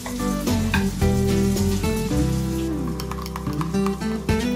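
Masala fries loudly in a pan for a mutton dish, a dense, close crackling sizzle broken by stirring knocks, with music playing underneath.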